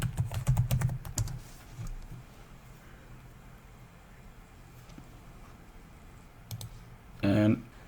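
A computer keyboard is used to log in: quick bursts of key clicks, heavier at the start, then sparse taps, with a final cluster of presses near the end, close and fairly quiet.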